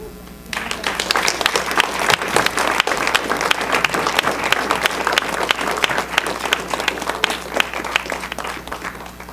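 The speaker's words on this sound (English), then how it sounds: "Another round of applause for Erica, Bianca, and Marcus." Audience applause after a poetry reading at The New School: steady, dense clapping from a sizable crowd that starts abruptly and holds loud and even throughout.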